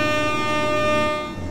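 Scania Griffin Edition truck air horn sounding one loud, sustained, steady blast with a rich chord of tones, close by and alone.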